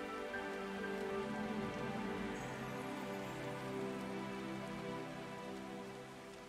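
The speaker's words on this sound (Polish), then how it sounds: "O, pada deszcz." Steady rain falls in the farming game Farmer's Dynasty, a soft, even hiss of drops on surfaces that continues unbroken and fades slightly toward the end.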